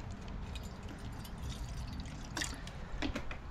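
Water trickles and drips as it is poured out for a squirrel outdoors, a soft continuous liquid sound with a few brighter splashes near the end, fairly quiet and close.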